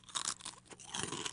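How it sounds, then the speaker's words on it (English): A short burst of close, crisp crunching of potato chips being chewed in the game You Don't Know Jack, with a few sharp crackles over about a second. "that's the sound of me eating potato chips"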